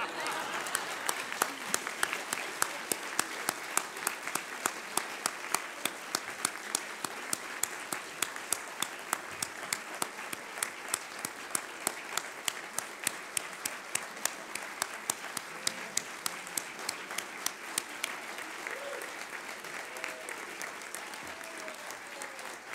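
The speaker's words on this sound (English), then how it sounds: "Could we give a nice round of applause?" A large audience at the National Press Club applauds steadily for over twenty seconds, a dense, even wash of clapping that holds at a constant level before easing slightly near the end.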